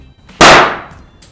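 A yellow party balloon bursts with a single loud, sharp bang that decays over about a second, standing alone without talk.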